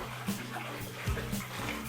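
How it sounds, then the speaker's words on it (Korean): Hot water trickles softly and steadily into an outdoor bathtub at a remodeled countryside house on a freezing day, forming a faint, continuous splashing murmur. "여기 좀 와보시면 지금 졸졸졸 소리가 들릴 건데"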